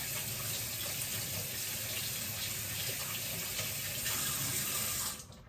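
Tap water runs steadily into a kitchen sink while hands are washed during turkey preparation, a loud continuous broadband splash that cuts off abruptly at the end.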